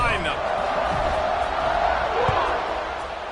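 A stadium crowd roars at a football kickoff in a Clemson versus LSU game, a broad steady wall of cheering held at full strength throughout, with one sharp thump partway through.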